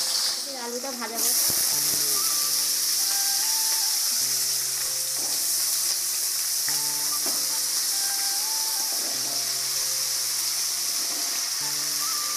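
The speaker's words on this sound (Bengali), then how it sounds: "অল্প তেল দিলাম, আলু ভাজবো আর এখানে মাছ ভাজবো" Potatoes and fish frying in a little oil in a pan give a steady, close sizzle and hiss throughout, with a brief clatter near the start and faint tonal background sounds beneath.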